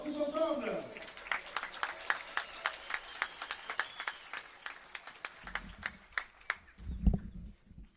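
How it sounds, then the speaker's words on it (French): A crowd claps in a fast, steady rhythm at a pétanque final in Draguignan, the claps close and crisp and running throughout, with a few dull low thumps toward the end. "Allez, on va s'applaudir bien bien fort tous ensemble."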